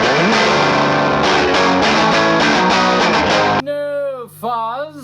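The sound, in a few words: guitar on the edge of distortion, no fuzz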